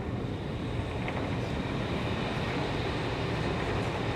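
Inside an Italo high-speed train built by Alstom in 2012, travelling from Rome to Milan, a steady, loud, low rumble of the ride continues unbroken with no talking.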